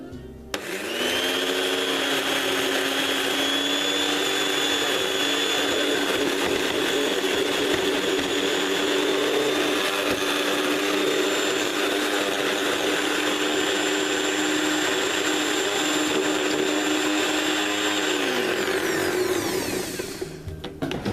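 Kitchen blender running steadily for about twenty seconds while mixing garlic, ginger and honey, a loud continuous motor whine with a sharp start and stop.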